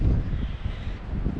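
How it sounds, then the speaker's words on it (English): Wind gusts across a high beach sand dune near Coffin Bay in Lincoln National Park, a low, rumbling buffeting on the microphone that rises and falls steadily throughout. "You can hear the higher we get up, it's actually getting quite windy up here"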